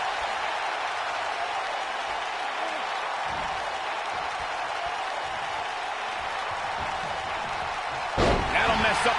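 A wrestler crashes onto the ring mat with a single heavy slam near the end, under a constant roar from the arena crowd and a commentator's voice.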